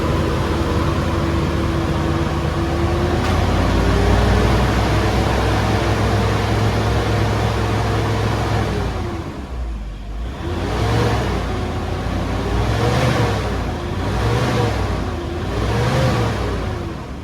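A Toyota Innova with a 2KD diesel engine, checked for sudden stalling and a lit check-engine light, idles steadily and then revs in a series of four or five short rhythmic blips, loud and close, with no talk.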